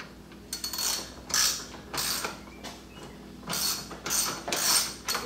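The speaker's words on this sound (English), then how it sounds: "So I'm going to use this deeper socket just so I can get some depth here. Okay, I'm going to take that 13mm off." Ratchet wrench with a deep 13mm socket backing out a bolt during a grille light kit install on a 2018 or newer Roush F-150, giving quick rapid clicking bursts in several separate runs, close and fairly loud with no talking.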